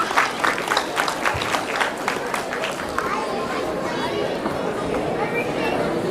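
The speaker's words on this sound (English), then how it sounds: "Please give a big round of applause." An audience at a September 2013 Ganesha festival applauds after children perform a Ganesha story. The steady crowd clapping is mixed with chatter and keeps going at an even level throughout.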